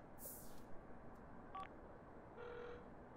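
Phone dialing in The Sims 4 video game: a few short, faint electronic tones and beeps sounding one at a time over a soft background hum, with no talk.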